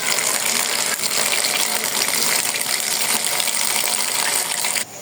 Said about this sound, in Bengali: শাকটা ধুয়ে নেই এখন